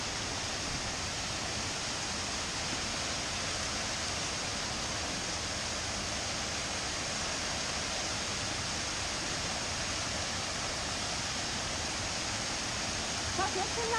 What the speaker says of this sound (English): there's another waterfall here, so we'll have a look at this